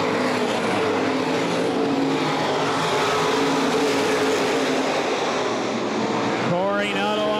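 Open-wheel modified race cars roar around Baer Field Speedway in a 2011 Gold Cup 60 race, a loud continuous engine drone with cars passing close, ending in a rising whine as one accelerates by; a commentator talks over it.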